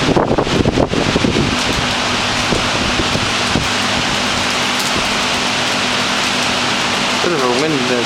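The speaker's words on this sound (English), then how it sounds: "Bit of a wind there too." Gusting wind with rain in Sri Hartamas, buffeting the microphone in rough bursts over a constant wet hiss, with a voice briefly heard over it.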